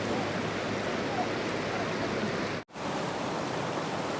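A mountain stream waterfall at Varahakshetra in Nepal roars as a steady, broadband wash of rushing water, loud and continuous close by, with one momentary dropout partway through.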